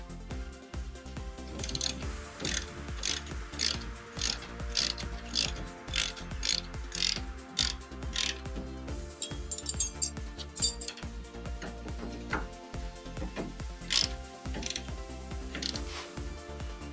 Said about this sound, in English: Got to take these hub nuts out to leave the drive shaft with it all as well.